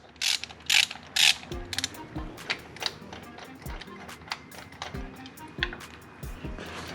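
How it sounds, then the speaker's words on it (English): A ratchet loosens a spark plug in a Lexus IS300, with a burst of rapid clicking early on, then scattered metallic clicks and tool knocks, close up and moderately loud. "you're just gonna loosen the spark plug, super easy, just like that"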